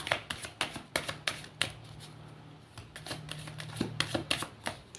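Tarot cards being shuffled by hand, heard as a quick run of crisp, riffling bursts with short pauses between them, close and fairly quiet, with no talking.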